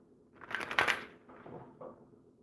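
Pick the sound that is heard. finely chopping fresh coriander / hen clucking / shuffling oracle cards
shuffling oracle cards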